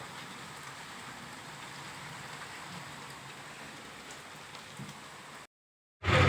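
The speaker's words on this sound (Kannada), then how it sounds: "ಈ ಕಡೆ ಮಳೆ ಐತಿ ಏನು ವಿಚಿತ್ರ ಮಳೆ" Steady rain falls with an even, continuous patter and hiss, then cuts to brief silence before a sudden loud burst at the end.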